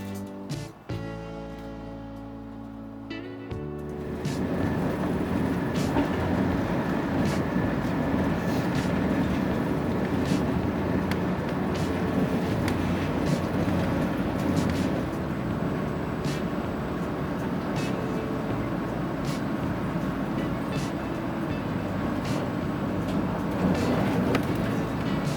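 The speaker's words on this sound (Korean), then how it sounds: "열차가 부굴산역을 통과합니다." A KTX high-speed train running through a station, heard as a steady loud rushing roar with rail rumble that builds after a few seconds and then holds for the rest of the stretch.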